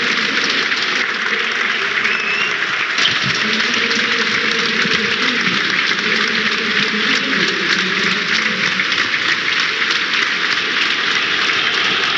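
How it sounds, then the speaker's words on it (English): Stadium crowd applauding for a minute in memory of former manager Gordon Jago before a Queens Park Rangers versus Millwall Championship match, a dense, steady wash of clapping heard from a distance throughout. "A minute's applause in memory of Gordon Jago"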